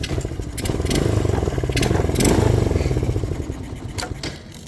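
An X18 pocket bike's small engine runs steadily up close, a buzzing rumble with slight swells in revving and some clatter, continuous throughout.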